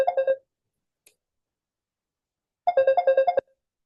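A telephone ringtone sounds in two short bursts of rapid repeated electronic tones, a quick burst at the start and a longer one after a pause, with a faint click between, close and clear with no talk.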